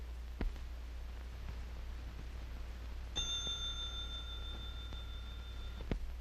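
A single bell rings in a clock-watching reaction test. The strike is sharp and clear, its tone holds for about three seconds, and it stops abruptly against a quiet hiss with no talking.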